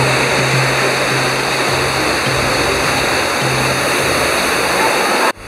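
A waterfall at Mazamitla, Jalisco, pours in the rain, a loud, steady broadband roar filling the whole clip until it cuts off abruptly near the end, with a faint low hum beneath.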